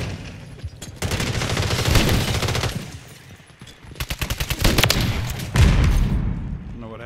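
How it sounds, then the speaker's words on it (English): Dual JAK Wardens guns fire in a video game, with long loud bursts of rapid automatic gunfire, brief pauses between them and a sharp heavy burst near the end, close and dominant. "I pulled both triggers."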